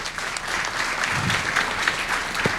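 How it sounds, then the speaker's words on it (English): An audience at a hospitality college master class applauds a chef with a steady, moderately loud patter of clapping hands that runs evenly for a couple of seconds, with no talking. "Round of applause for him."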